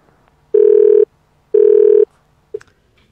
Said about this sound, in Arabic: فصل التليفون، في مشكلة مع الخطوط